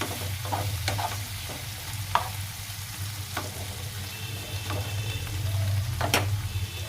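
Onion, garlic and tomato fry together with salt in a pan, making a continuous close sizzle with scattered clicks of a spoon stirring.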